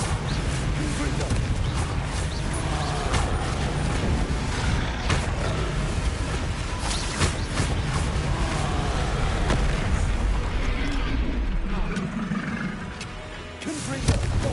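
Confringo and Bombardo spells explode again and again in Hogwarts Legacy, loud booming blasts and crackling bursts packed densely over a continuous roar, easing briefly near the end.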